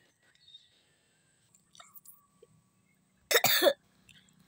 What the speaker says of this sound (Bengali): গলায় লেগে গেল, পুরো কাশি হচ্ছে